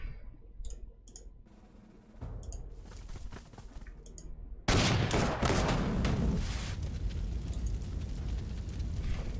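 Artillery fire in the Panzer Corps 2 strategy game on the Barbarossa North front: sparse clicks give way to a sudden loud, sustained burst of booming, crackling barrage noise that continues to the end.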